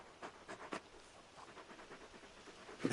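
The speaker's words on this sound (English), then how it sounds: "You're just a big puppy, aren't you? A very big puppy." A big dog named Torgal panting softly nearby, a quick rhythmic run of breathy huffs, faint and close with no voices over it.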